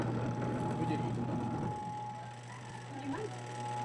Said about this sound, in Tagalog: Umuugong nga lang, hindi nga talaga umiikot.